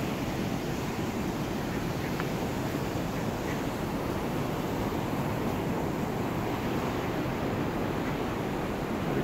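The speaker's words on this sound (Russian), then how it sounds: "Шумит вода." Water rushes below a dam on the Orlik river in an unbroken roar, a broad continuous wash of noise with no voices.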